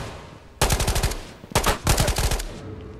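Bursts of MP5 submachine gun fire in a video game: two loud, rapid automatic volleys, the first about a second long and the second slightly longer after a brief pause, with no voices.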